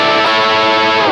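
A loud, sustained distorted chord on a Greco LA-240KK electric guitar with EMG pickups through a BOSS GT-1 rings out with reverb and delay, thick and saturated, played alone.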